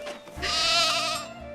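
Sheep bleat in the farming and city-building video game Foundation: one drawn-out, wavering bleat, loud and close, rises and fades over about a second, with no talking.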